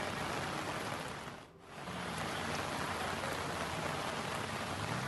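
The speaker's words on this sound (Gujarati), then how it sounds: "એક સાથે વરસાદ વધારે પડી રહ્યો છે" Dense, steady hiss of heavy monsoon rain pouring down in Surat, Gujarat, with a brief dip in the middle before the downpour resumes at full strength.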